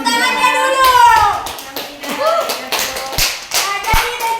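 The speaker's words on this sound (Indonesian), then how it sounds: "Tepuk tangannya dulu." Scattered clapping and tapping from a small classroom group during a teaching practice session, uneven and sparse, mixed with voices and children talking over it.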